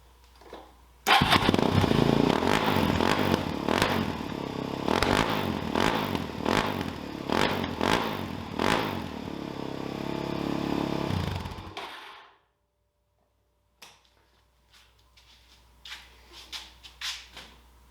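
Engine with a silencer fitted in the exhaust, started and revved in a series of sharp, loud bursts and rising roars over a rough idle, then cut off abruptly into near silence followed by faint clicks.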